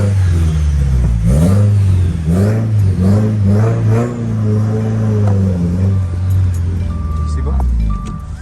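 Subaru WRX with a catless J-pipe exhaust driving: a loud, close engine note rising and falling through several rev climbs and gear changes, then settling into a steady drone, with a voice speaking briefly over it.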